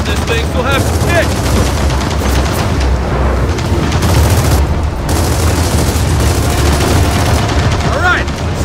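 Bombs and gunfire rage in Gears of War 4 combat, with dense, sustained bursts and booming blasts throughout and shouted voices popping up now and then over the din.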